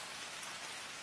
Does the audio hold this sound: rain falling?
yes